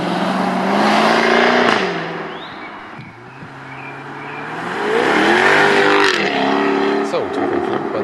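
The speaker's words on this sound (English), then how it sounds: "This is just pure emotion when you hear this sound from the F-TYPE." A Jaguar F-TYPE V8 S engine revs loudly and close, rising and falling in two long surges with crackling, rasping exhaust notes between them.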